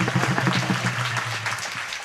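An audience at a kirtan gathering clapping in unison, a short burst of loud, close hand claps over a faint background hum.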